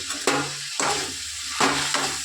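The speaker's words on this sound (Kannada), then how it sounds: "ರುಬ್ಬಿ ಇಟ್ಕೊಂಡಿರ್ತಕ್ಕಂಥ ಕೊತ್ತಂಬರಿ, ಶುಂಠಿ, ಬೆಳ್ಳುಳ್ಳಿ, ಪುದೀನ ಅದನ್ನು ಹಾಕಿ ಸ್ವಲ್ಪ ಫ್ರೈ ಮಾಡೋಣ." Ground coriander, ginger, garlic and mint paste fries in a pan with a steady sizzle, broken by three quick scraping stirs spaced about half a second apart.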